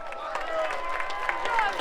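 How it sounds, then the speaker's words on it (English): An arena crowd at an MMA event applauds and murmurs for a defeated fighter. The noise sits low and steady beneath a louder announcer's voice for a brief moment. "And also a big round of applause for his opponent"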